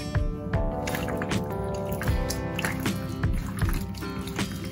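Wet, squishy hand-mixing of raw chicken pieces in butter chicken marinade with salt, in a home kitchen. The clip is full of close, irregular squelches and slaps.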